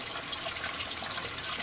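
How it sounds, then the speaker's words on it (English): An aquarium sump's overflow siphon drains water in a continuous, close, rushing trickle, steady and alone throughout. "So here I'm going to turn the water off, and you can hear the siphon."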